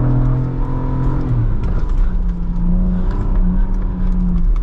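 A 2022 Ford Bronco Raptor drives off-road over rocks, its engine humming loud and close as the pitch shifts partway through, with rattling and bumps from the terrain.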